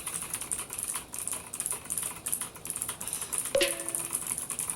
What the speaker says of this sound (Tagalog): Murang mechanical keyboard, I suggest you this keyboard